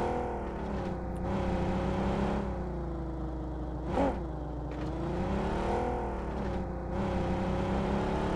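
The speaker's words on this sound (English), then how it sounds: "Alright, guys, I found a car." A car driving in the mobile battle royale game PUBG Mobile, a steady engine hum with shifting revs and a brief louder whoosh midway, heard alone without talk.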